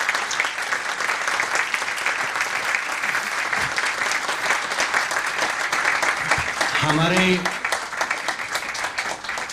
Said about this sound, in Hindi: आप उसी तरीके से दिल खोल करके तालियां बजाइए